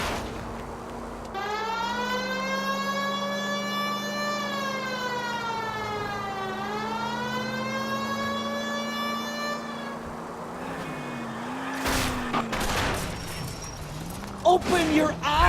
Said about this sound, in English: Turn on the siren.